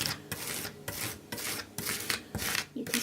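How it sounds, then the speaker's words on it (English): An old plastic card scrapes filler across a stencil on a steampunk writing bureau, giving soft, rhythmic rasping strokes, about six passes, quiet and close with no talk. "So I'm just using an old card to act as a scraper."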